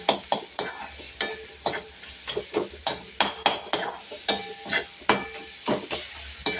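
Something, likely onions with salt for a bitter gourd dish, is being sautéed in a pan, with a steady run of sharp spatula scrapes and stirring clatter over a soft sizzle, close and rhythmic with no talking.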